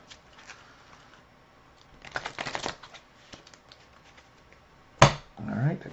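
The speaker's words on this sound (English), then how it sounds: "And we shuffle." A deck of Marvel Champions cards shuffled on a tabletop in two quick riffles, a brief rustling burst followed by a sharper snap and a second longer riffle, with a voice speaking quietly in the background.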